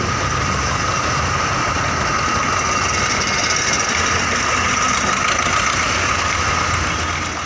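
A tractor engine idles with a steady, loud, continuous drone and rattling knock, unbroken throughout, as farmers in Punjab gather tractors for a march.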